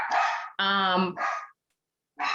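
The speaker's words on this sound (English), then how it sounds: "The dogs are barking downstairs" Dogs downstairs give three quick barks in a row, loud and close, followed by a short pause and another bark starting.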